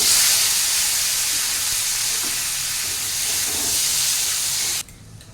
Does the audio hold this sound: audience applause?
no